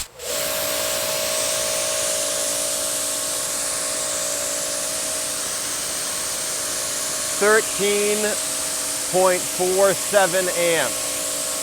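An Active 2.3 pressure washer with a 40-degree nozzle sprays in a steady, loud hiss over a constant motor whine, while someone speaks briefly toward the end.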